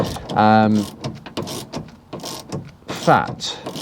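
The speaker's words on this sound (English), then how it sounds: "if you hold the top spanner here and just keep using this ratchet" Ratchet clicking as it tightens an anti-roll bar link nut on a Ford Focus Mk1, with short bursts of rapid pawl clicks; close, with someone talking between them.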